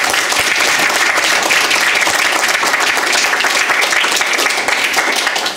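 Audience at a book launch breaking into loud sustained applause, dense continuous clapping from a roomful of people filling the whole stretch, close and even without letting up.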